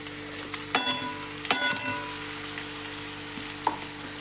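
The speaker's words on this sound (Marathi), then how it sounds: "याला व्यवस्थित असं परतून घ्यायचं आहे मी परतून घेते" Bitter gourd stir-fried in a pan with a ground paste of peanuts, coriander and curry leaves. A loud, close frying sizzle is punctuated by two sharp bursts of stirring and scraping early on and a lighter one near the end, without talk.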